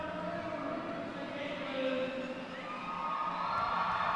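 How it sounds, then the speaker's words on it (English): Crowd cheering at a roller derby season opener in an indoor arena, a sustained roar of many voices with whoops that rises slightly toward the end. "You can hear the cheer."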